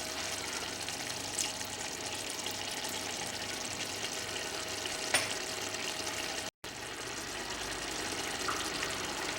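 Water is poured into a pan of frying chicken masala with garlic and ginger, giving a steady hiss and bubbling sizzle that stays fairly even, close and moderately loud, with no talking.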